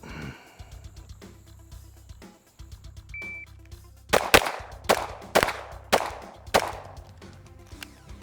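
A pistol fires at targets in a timed shooting drill: six sharp, loud shots spread over about four seconds, each snapping out at close range with a short ring after a quieter lead-in.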